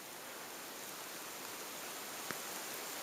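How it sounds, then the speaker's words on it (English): Rain falls through autumn woods on a day trip, a soft even wash of broadband hiss with one brief tap near the end. "And now it started to rain more."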